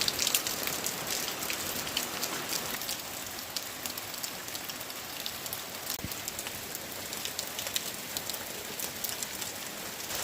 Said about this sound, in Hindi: पिछले 3 घंटे से लगातार बारिश हो रही है